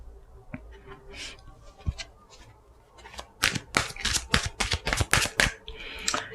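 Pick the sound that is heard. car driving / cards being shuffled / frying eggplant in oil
cards being shuffled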